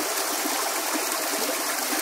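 A river stream flows steadily through Costa Rican jungle, a continuous close rushing and trickling of water with no voices.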